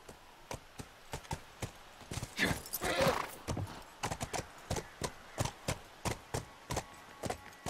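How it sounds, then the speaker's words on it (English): Horse hooves clip-clop steadily in the video game The Last of Us, a close, regular rhythm of sharp hoof strikes. A horse whinny and brief rustling interrupt the pattern partway through. "Let's get off the horse, huh?"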